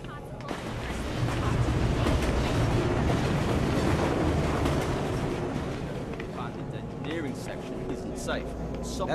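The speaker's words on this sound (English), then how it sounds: "Attention, tram number 4, connecting the main atrium with the hydro" A tram in the video game Afterfall InSanity rumbles past with a broad rolling roar and rattling clatter that swells and then slowly fades, with a voice speaking over it.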